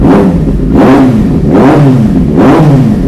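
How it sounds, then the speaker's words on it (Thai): A 2013 Kawasaki Z800 motorcycle engine revs up and drops back repeatedly, four loud, close throttle blips in a steady rhythm over a continuous idle rumble. "เครื่องฟรีสตาร์ทอีกง่าย รอบมาเร็ว ลงเร็ว"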